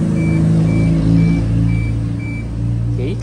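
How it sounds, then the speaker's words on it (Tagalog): A Hyundai Tucson's factory lock chime sounds as a series of short, evenly spaced beeps over a steady low vehicle hum, clear and close. "parang sa mga bagong kotse ngayon na kapag nag-lock kayo, yan yung tunog niya"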